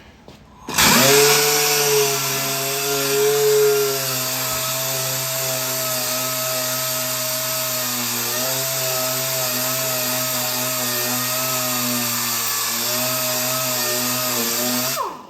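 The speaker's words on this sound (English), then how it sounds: "I'm gonna start sanding this down." A power sander runs steadily and loudly for many seconds on a broken pinball head, a sustained droning whine with a slight shift in pitch partway through.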